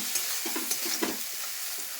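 Ground cucumber paste sizzling softly in a pan, with a steady low frying hiss and a few light scrapes of stirring, alone and close.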